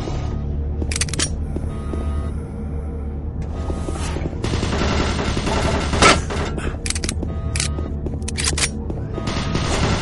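Automated turret guns firing in DOOM 3 during the Monorail level, a steady rattling barrage of bursts running throughout with a sharper blast near the middle, loud and close.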